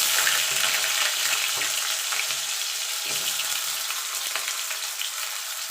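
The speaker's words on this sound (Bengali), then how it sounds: "এবারে এই তেলে আমি আলুটা আর বেগুনটা ভেজে নেব।" Potato and eggplant pieces fry in hot oil, giving a continuous bright sizzle with a few soft stirring clicks, close up and with no talking.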